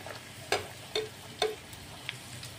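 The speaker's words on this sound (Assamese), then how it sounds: "তেল গৰম হৈ আছে আৰু তেলত দি আছোঁ এটা লেয়াৰ দি দিলোঁ" Tricolour poori fries in hot oil with a soft, low sizzle, broken by a few light clicks and scrapes of a utensil moving it in the pan.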